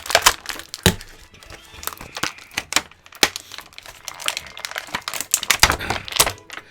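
Small toy parts from a Star Wars Galaxy's Edge Droid Factory droid playset are pushed out of thin plastic packaging, giving close, irregular plastic crinkles and sharp pops in quick, uneven bursts.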